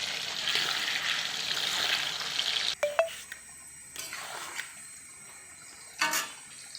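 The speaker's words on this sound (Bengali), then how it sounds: "এই যে কাঠলের সবজি দিয়ে আমি আলুটা ভাজা করে নিই।" Potatoes frying in a pan for a jackfruit curry: a dense, close sizzle that runs steadily for a few seconds, then drops off into quieter scrapes and a few soft clatters of stirring.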